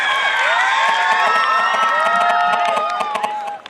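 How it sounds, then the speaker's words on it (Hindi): A crowd of students at a school event cheers loudly, with many overlapping excited shouts and scattered claps that fade near the end. "to show with a huge round of applause"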